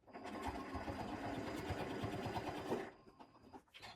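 Sewing machine stitching a quilt-as-you-go embroidery sampler quilt, a close, fast mechanical whirring that runs steadily for almost three seconds, then stops with a few faint clicks.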